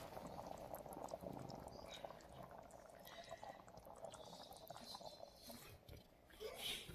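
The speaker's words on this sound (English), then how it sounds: "my sauce has been bubbling away for 15 minutes or so" Pasta sauce for shirataki spaghetti bubbles steadily in a pan, a faint, continuous simmering crackle and pop with light clinks and voices chatting and laughing in the background.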